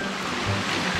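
Running stream water pours steadily into a cold, unchlorinated natural pool at a hidden stream in Baras, Rizal, a close, continuous rushing wash with no voices.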